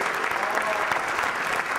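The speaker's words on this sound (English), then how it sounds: "How about a big round of applause for Maya?" An audience claps in steady, dense applause, loud and sustained, with a faint murmur of the crowd underneath.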